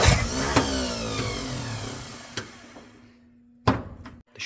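A 1959 Ford F-100 4x4 pickup, revived after 30 years, cranks and catches, its engine revving up briefly before sputtering and stumbling, with a few sharp clunks and a short restart near the end.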